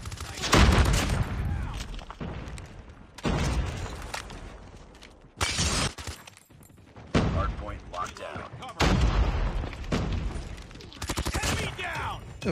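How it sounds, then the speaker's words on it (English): Grenade blasts and bursts of gunfire in a multiplayer hardpoint shooter video game, loud repeated volleys and booms separated by short gaps, with a player talking over the action. "A little grenade there."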